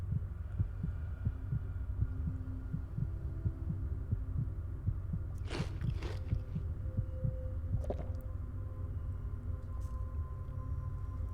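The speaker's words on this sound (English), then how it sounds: "can I get this heartbeat thing stopping? It's kind of annoying." A heartbeat sound effect in Enderal, a Skyrim mod game, thumps at a steady rhythm over a low hum for the whole stretch, with a few brief game noises in between.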